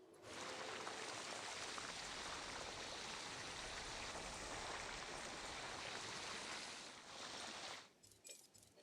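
Water flows steadily from a water feature in Jurassic World Evolution, a broad, even rushing wash that runs unbroken for several seconds and then cuts off abruptly near the end, with no voices.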